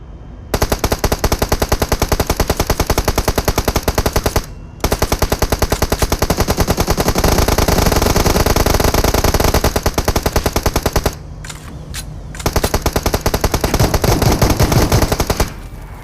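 Rapid sustained machine gun fire in BGMI, long continuous bursts broken by a few brief pauses, loud and close throughout.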